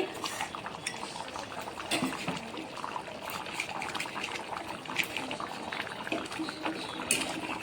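Nellore-style fish curry with onions and fish pieces stirred in a pot, with steady clinks and scrapes of a spoon against the pot and faint liquid sloshing throughout, no talking.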